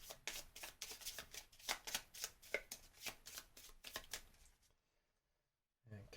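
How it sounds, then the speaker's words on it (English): A deck of Marvel Champions game cards being shuffled by hand in a rapid series of riffling bursts, close and crisp, then stopping abruptly into near silence. "Shuffle this up."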